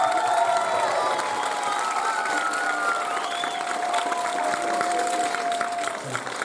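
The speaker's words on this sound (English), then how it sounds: "So you can clap it up for them real quick." An audience at a middle and high school end-of-year band concert claps for the band students, a full crowd of applause with some cheering and a few voices, continuous and fairly loud.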